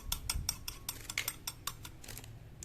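A beaten egg whisked for a carrot omelette, a quick series of light clicking taps of utensil against bowl in an uneven rhythm, fairly faint and close, with no talking.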